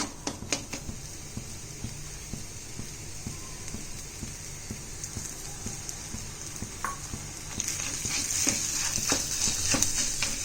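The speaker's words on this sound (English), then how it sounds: "allow this to cook on high flame till it's kind of semi-dry once again" Zunka, a Maharashtrian gram flour sabzi, fries on a high flame with a continuous close sizzle. Frequent scraping and tapping stirring strokes cut through it, and the crackle grows louder toward the end with no talk.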